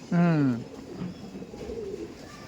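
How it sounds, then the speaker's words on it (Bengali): A pigeon in a loft of Andhra breed birds gives one loud, close, throaty coo, followed by quieter cooing and faint background noise. "এগুলো সব বিডার পায়রা দেখাচ্ছে"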